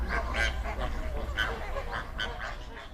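A flock of flamingos at a shallow saline soda lake in Kenya keeps up a dense honking, goose-like chatter, many overlapping calls close by with no pause.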